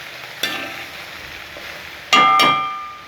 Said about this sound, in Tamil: ஸோ நம்ம இந்த எண்ணெயிலேயே தான் இதை நல்லா வறுக்க போகிறோம்.